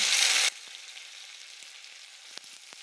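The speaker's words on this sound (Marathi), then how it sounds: "त्याच्यानंतर कांदा, नंतर ठेचलेला लसूण आणि कढीपत्ता घालून घेऊया." Onion, crushed garlic and curry leaves hit hot oil already holding mustard seeds and cumin, setting off a sharp loud sizzle that lasts half a second and then drops to a faint crackle with a few small pops.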